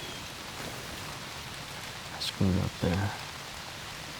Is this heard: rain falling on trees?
yes